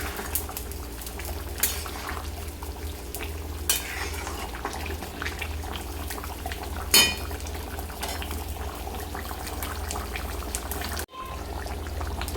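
A jackfruit and potato curry with ghee gets stirred in a pot on a gas stove: a continuous low bubbling simmer, occasional scraping and clinks of a spoon against the pot, and a brief drop-out near the end.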